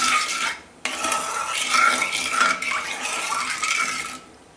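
Sugar mixture for homemade food colouring being stirred in a pan, a steady scraping swish of spoon against metal running for several seconds, close and fairly loud, with no talking.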